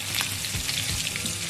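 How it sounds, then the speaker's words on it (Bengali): Two large koi fish fry in oil in a wok with a dense, even sizzle that holds close and steady, with no other sound. "তো বড় মাছ তো আমি এই দুটো করে মাছ ভাজছি"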